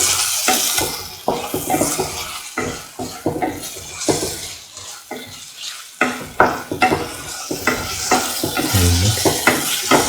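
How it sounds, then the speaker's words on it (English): Ground onion, shallot and cashew paste stirred into tomatoes in a pan for a scrambled egg cashew stew, giving repeated scraping, clinking and wet stirring strokes with a soft sizzle underneath. "And mix thoroughly with the tomatoes."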